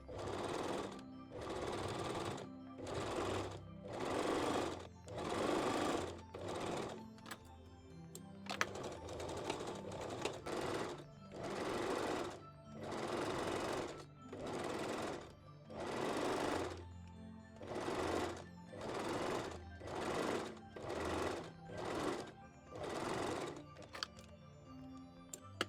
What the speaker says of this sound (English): Then tuck the front pieces into the back one and sew both side seams.